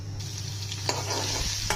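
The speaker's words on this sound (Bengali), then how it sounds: "কড়াইতে তেল দিয়ে দিলাম," Oil heating in a wok crackles and sizzles softly and continuously, with a faint low hum beneath and a couple of small pops; no talking.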